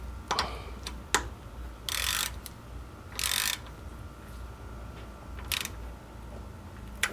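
A ratchet wrench tightening the oil drain plug on a Toyota 4Runner during an oil change, heard as short clicking ratchet bursts and a few metallic taps at close range over a low steady hum, with no talking.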